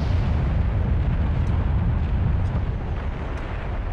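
A bomb goes off in The Legend of Zelda: The Wind Waker on the Nintendo GameCube, a loud, sustained low rumbling blast that fills the whole stretch without any talk over it.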